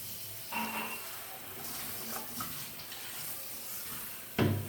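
Water runs from a household tap in a steady, soft gushing stream, with a couple of brief louder splashes and clatters, one near the start and a sharper one at the end, and no talking.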